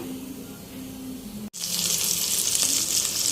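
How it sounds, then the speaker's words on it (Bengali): Chicken nuggets frying in oil, starting with a faint hiss and then jumping to a loud, steady sizzle after a brief pause, continuing without talk. "এখন একটু নাগেটস ভেজে নিলাম"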